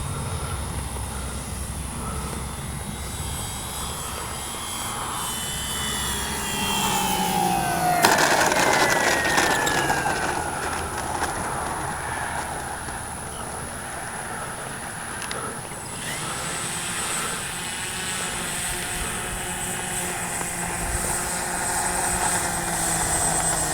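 An RC B-25J warbird model airplane flies overhead with its propeller engines droning, the pitch sweeping as it passes and turns, then holding a steady hum at moderate distance throughout.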